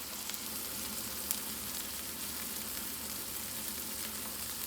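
A burger patty fries in a pan with a constant, even sizzle, close and unbroken, with only tiny crackles and no voices over it.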